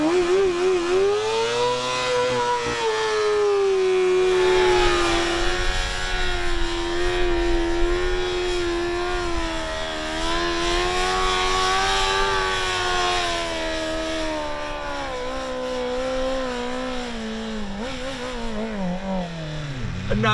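A BMW M1000 RR superbike circles a BMW M5 CS car at speed, its engine note rising and falling in long sweeping waves that stay loud and continuous throughout.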